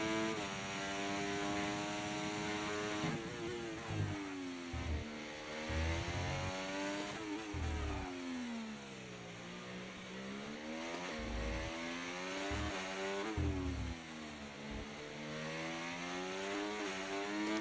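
A race car engine in a Mexico racing video game revs and drops repeatedly as the car slides on its rear tyres through the esses, with a steady, continuous engine note that rises and falls in waves and no talking.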